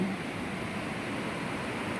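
Rain-swollen river current pours past in a dense, unbroken roar, close and loud, with no talking over it.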